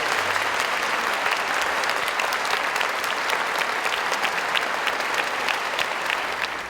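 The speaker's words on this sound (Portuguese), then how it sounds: "Uma salva de palmas para vocês" An audience applauds a choir at a 2015 Christmas concert, a dense steady wash of many hands clapping, loud and continuous throughout, fading a little at the very end, with no voices standing out.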